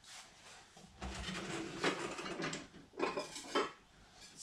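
Plates and dishes clatter in a home kitchen while vegan pancakes are being made, a series of close, sharp knocks and scrapes of crockery at uneven intervals, heard alone.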